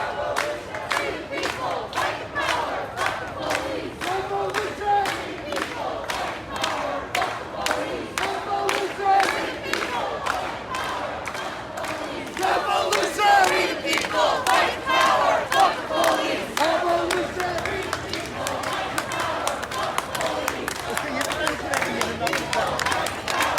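A street protest crowd in DC chanting and clapping as it marches through a district, loud rhythmic claps and shouted chants repeating steadily over many seconds, with voices mixed in throughout.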